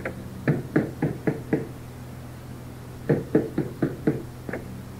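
Two quick bursts of knocking on a door, five or six sharp raps each, separated by a short silence, fairly close.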